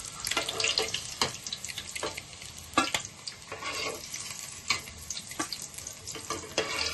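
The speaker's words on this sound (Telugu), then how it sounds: "గుడ్లకి ఇలా కాట్లు పెట్టుకొని వేపుకుందాం." Slit boiled eggs frying in oil for egg biryani, with repeated scraping and turning strokes in the pan over a soft steady sizzle, close and fairly quiet.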